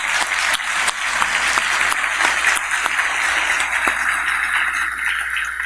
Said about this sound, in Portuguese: Queria pedir uma salva de palmas aqui ao professor Montesano.